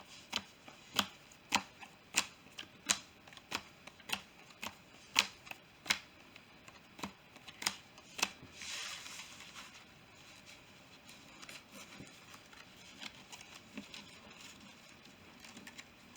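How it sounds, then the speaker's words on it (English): Power shuffling a Monarch trading card deck, a quick rhythmic series of about a dozen crisp card slaps, then a softer riffling rustle and a few scattered taps, close and fairly quiet. "Do my power shuffle one more time."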